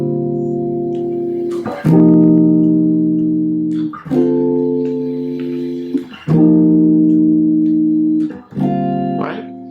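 Sustained jazz guitar comping chords strike in a syncopated pattern on the upbeats, each one landing just off the beat and ringing out before the next hit, with no talking.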